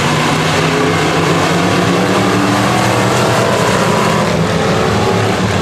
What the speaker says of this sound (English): Kenzie and Schweitzer, green flag is in the air